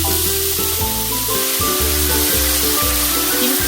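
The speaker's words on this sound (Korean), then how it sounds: "햄이 노릇노릇해지면 썰어둔 김치를 넣어줍니다." Sliced kimchi frying with ham in oil, making a loud, dense, continuous sizzle with a constant crackling hiss throughout.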